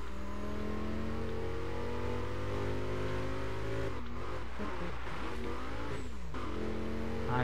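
Car engine revving hard in the racing game Burnout Paradise, a loud sustained roar with pitch sweeps as it shifts and accelerates, with brief tire and impact noises midway.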